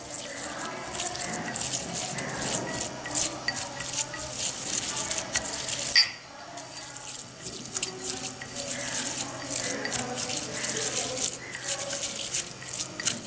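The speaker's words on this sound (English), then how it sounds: "and we stir it now" Junk food and rice are stirred in water in a bowl, a continuous wet swishing and sloshing with a short pause midway before the stirring resumes, no one speaking.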